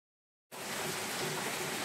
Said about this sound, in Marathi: पाऊस पण खूप होता